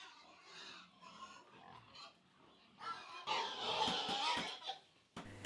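Pigs on a farm grunt and squeal, faint at first, then rising into a louder, busier chorus of overlapping snorts and squeals toward the end.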